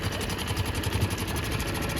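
A 2012 Honda 4-stroke outboard motor runs in gear with a steady, rapid, buzzing throb and close mechanical ticking. No voices are heard.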